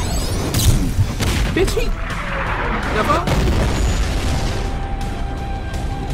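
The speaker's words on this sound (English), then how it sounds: "I thought that was a nuke about to explode" A show's fight scene with a big explosion: booming blasts and crackling bursts over several seconds, loud and close, with excited voices talking over them.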